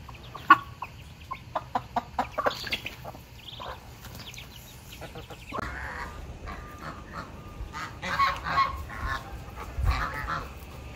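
Chickens and chicks on a farm cluck and call close by, with a quick series of sharp clucks early on and then looser cackling and chirping over a steady outdoor background.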